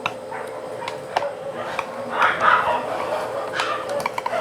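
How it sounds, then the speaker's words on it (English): Several dogs bark intermittently in the distance, faint and scattered behind quiet room noise and some handling sounds. "Now of course you can hear the dogs in the background,"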